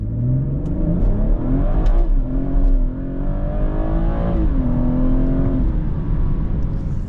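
A 400HP BMW 440i launching hard with launch control, the engine revving up through rising pitch sweeps with brief dips at gear changes, loud and close, no talking.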